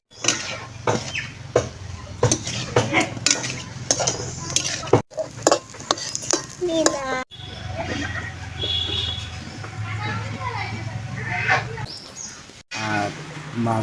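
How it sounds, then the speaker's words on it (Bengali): Fish is stirred and cooked with spices in a pan, with sizzling, clinks and scrapes of a utensil against the pan, close by, while a person talks over it at times. "আমি এই মাছটা এই কষাই করে রান্না করব।"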